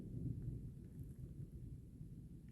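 Steady rain falls in a forest, hissing as a low, continuous wash, with soft rumbling underneath and no voices.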